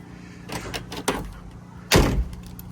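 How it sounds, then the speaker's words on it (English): Central locking on a Carryboy S6 canopy door fitted to a SsangYong Musso: a few soft mechanical clicks and rattles, then a sharp, louder thunk of the lock actuating near the end. "if we unlock the door and we press the key"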